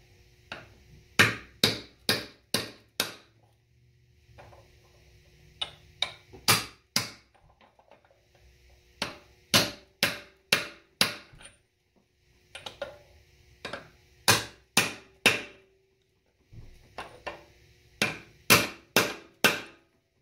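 Sharp metallic hammer blows on a socket and extension seating a part in a TH350 transmission, in quick bursts of four or five strikes, repeated with short pauses, loud and close.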